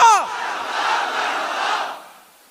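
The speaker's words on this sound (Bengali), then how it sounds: "জোরে তকবীর দেন, নারায়ে মুস্তাফা।" A large crowd at a Ramadan religious gathering loudly chants the takbir slogan Nara-e-Mustafa in unison, one swelling roar of voices lasting about two seconds before fading, preceded by a brief chirp.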